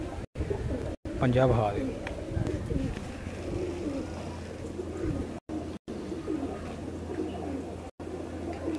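Pigeons on a rooftop give a brief burst of cooing near the start, then faint bird sounds continue beneath someone talking throughout, with a few sharp dropouts.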